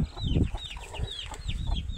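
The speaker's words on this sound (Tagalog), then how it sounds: "Tayo ngayon ay magbababa ng aking mga papisang sisiw." Chickens cluck nearby while newly hatched chicks give repeated high, thin peeping calls throughout, a busy close-up flock sound with no talking.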